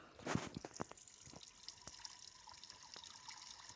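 Roblox game tap running while hands are washed: a faint, close trickle of water with scattered drips, louder at the start and then settling into a light, steady flow. No one speaks.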